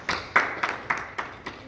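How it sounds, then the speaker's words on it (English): An audience at a company event claps in sharp, evenly spaced bursts, about six distinct claps over under two seconds, close and moderately loud against a quiet room. "let's give them a round of applause"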